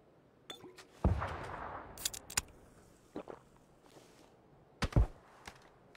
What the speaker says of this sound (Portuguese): ele tá dando um tiro em mim, outro tiro